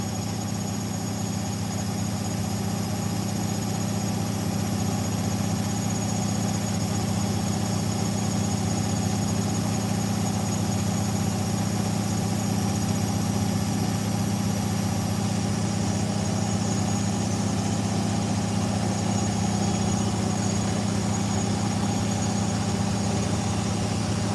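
Two Hotpoint washing machines spinning at 1000 RPM produce a steady, loud mechanical drone with a constant hum and whine, continuous and unchanging throughout with no talking.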